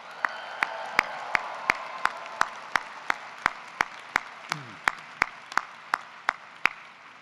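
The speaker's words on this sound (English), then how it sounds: "Give them a big round of applause." Clapping for faculty and staff at a university commencement: sharp, evenly spaced hand claps in a steady rhythm, about three per second, close and distinct over a faint background murmur.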